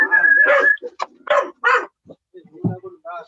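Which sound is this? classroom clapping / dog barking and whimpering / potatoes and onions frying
dog barking and whimpering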